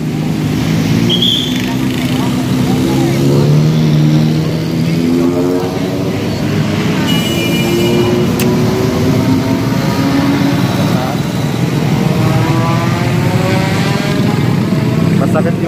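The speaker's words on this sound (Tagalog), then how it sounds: "Sobrang traffic na yun yung Marcos Highway." Heavy road traffic crawling along Marcos Highway near SM Masinag in light rain, a steady dense rumble of car and motorcycle engines with occasional revving, continuous and close, under people talking.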